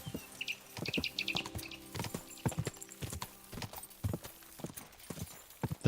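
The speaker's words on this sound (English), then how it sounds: "So this is what it feels like to ride on a proper horse." A horse's hooves clip-clop steadily and close in Kingdom Come: Deliverance II while a rider moves along, with birds chirping in the background throughout.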